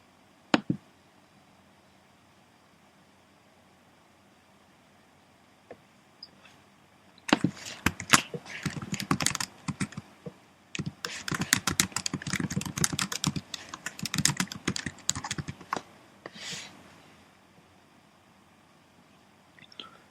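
Bursts of rapid typing on a computer keyboard, starting after a quiet stretch with a few isolated clicks, then dense clattering keystrokes in close, uneven runs that pause briefly before trailing off.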